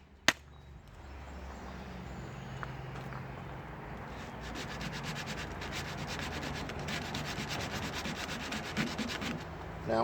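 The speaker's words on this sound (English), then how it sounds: "once I get done going through this with this sandpaper, then I'll wet sand" Coarse 60-grit sandpaper rubbed by hand over the body of a 1957 Chevy, a steady scratchy rasp of quick back-and-forth strokes that grows denser and louder, close up, after an initial sharp tap.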